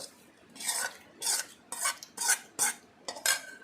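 Rhythmic scraping strokes of a spoon stirring bitter gourd pickle in a pan, about six regular passes, close and clear with no talking.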